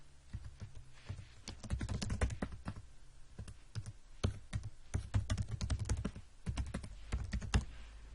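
Computer keyboard typing while filling in form fields, a close, steady patter of irregular keystroke clicks in quick bursts with short pauses.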